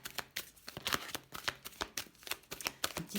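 Angel oracle cards are shuffled close up in a quick, uneven run of crisp riffling slaps and flutters that keeps going without a break, with no voices heard.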